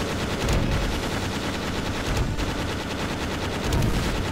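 Dense, continuous gunfire in the video game Sword and Fairy 6, rapid overlapping shots forming a loud, unbroken barrage with a few heavier swells and no talk.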